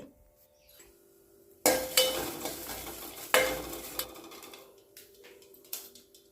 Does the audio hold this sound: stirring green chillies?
yes